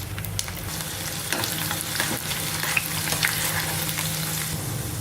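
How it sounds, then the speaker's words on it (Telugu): Garlic sizzling steadily in hot oil over a medium flame for mango pickle, a dense continuous crackle with occasional stirring scrapes, close and even throughout. "వెల్లుల్లిపాయలు మనకు కరెక్ట్గా వేగాలి. మీడియం ఫ్లేమ్లోనే ఫ్రై చేసుకోవాలి."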